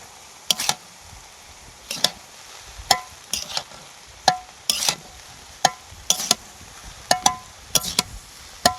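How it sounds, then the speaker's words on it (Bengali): Fried rice is stirred in a pan with a utensil, giving a regular series of sharp scraping strokes about once a second over a faint background sizzle, with no voices. "এটাকে ভালো করে নেড়ে নেবো"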